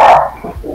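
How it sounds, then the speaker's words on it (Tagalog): A dog barks close and loud in a short burst, a single sharp bark followed by a fainter second yelp, with no talk over it. "Masakit yung tahol ng aso."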